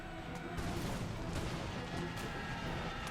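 Crackling volleys of musket fire and scattered shots in an American Revolution video game battle, dense and continuous over a rumbling background.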